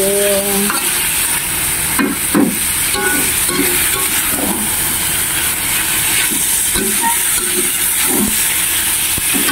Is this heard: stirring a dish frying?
yes